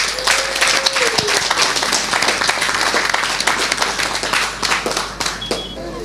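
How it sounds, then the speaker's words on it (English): An audience claps at an event about Muslim women, peace and development. The applause is steady and fairly loud from start to finish, with some voices and murmurs mixed in. "Let's give the Standpoint a big round of applause."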